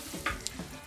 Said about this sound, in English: We've got that sizzle.